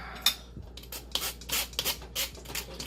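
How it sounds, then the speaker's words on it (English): A fork scraping and pressing cooked onions through a metal strainer for chicken paprikash, heard as a run of short, close, gritty rasps and rubs in an irregular rhythm with quiet gaps between them. "we're going to push with a fork all the onions through the strainer"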